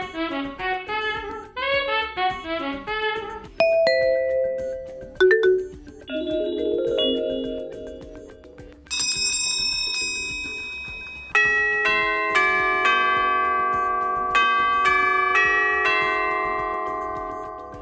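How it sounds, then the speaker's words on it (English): A Honeywell Series 3 wireless plug-in doorbell plays a run of its pre-installed electronic chime tunes, bright melodic ding-dong and bell-like notes in several distinct sequences, loud and close with no talking. "you will also be alerted by any of the 6 pre-installed 84 decibel tunes."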